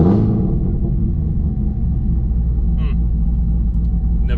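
A 2022 Camaro ZL1 1LE is driven slowly through a neighborhood, its engine producing a steady, close, deep rumble that holds throughout.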